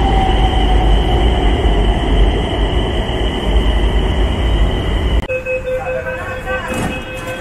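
A train at a railway station platform on the way to Deeksha Bhoomi in Nagpur gives a steady loud rumble with a sustained tonal whine, then a sharper shift near the end as wheels and brakes change pitch.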